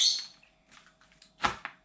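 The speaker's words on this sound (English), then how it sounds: "you can all hear the bird tweeting in the background as usual." A bird tweets faintly in the background with a few short, high chirps, near the start and again near the end, amid quiet indoor noise.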